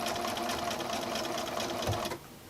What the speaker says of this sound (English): I'm just going to go ahead and sew to my corner